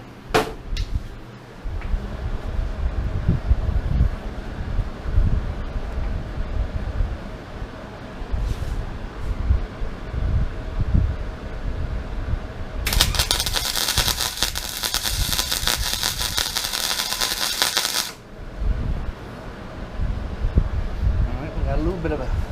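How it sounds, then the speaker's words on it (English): A flux core welder burns onto a broken bolt in an aluminum cylinder head, making a loud, harsh crackling buzz for about five seconds. Workshop noise and handling sounds run before and after the burst, and someone talks. "What we're going to do is start welding down in there and pull it out"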